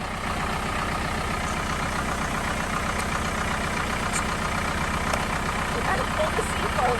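A box truck's engine idles steadily at close range, a constant low rumble with a faint mechanical hum and occasional light ticks on top, running the whole time without a break.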